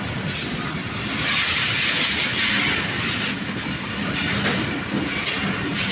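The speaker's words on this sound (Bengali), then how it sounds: "অনেক বড় ট্রেন, এটা একটা তেলবাহী ট্রেন।" A long oil tanker freight train rolls steadily past close by, loud continuous rumble with rhythmic clickety-clack of wheels on rail joints and faint metallic squeal, no voices over it.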